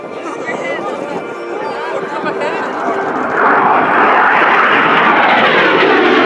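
A USMC AV-8B Harrier II jet makes a high-speed pass at an airshow, its engine roar building and swelling to a loud, broadband rush that holds steady, with people talking over it.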